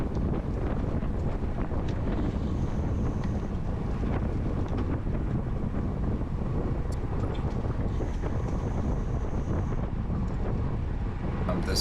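Wind roars steadily across the microphone during a Cat 4/5 bicycle criterium race at Eldora, a loud, constant buffeting rush that fills the whole stretch with no break and no voices.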